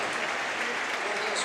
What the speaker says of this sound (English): Griezmann getting the applause